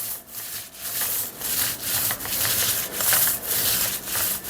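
A paint roller spreads olive drab paint across a slat panel in a rhythmic series of soft, sticky rolling strokes, close and moderate in volume, with no talking.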